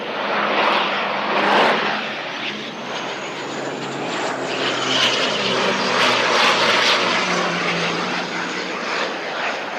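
An aircraft lands at Christchurch Airport in strong wind, its broad engine roar sustained and fairly loud throughout, swelling slightly in places with wind noise mixed in.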